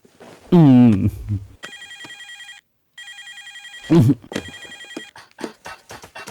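A telephone rings in repeated electronic bursts with a pause between, while a person speaks before and after the rings.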